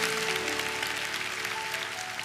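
Church congregation applauding during a worship service, a steady, faint wash of clapping with a sustained tonal hum beneath it, no talk over it.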